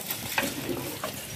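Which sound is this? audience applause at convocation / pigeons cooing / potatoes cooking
potatoes cooking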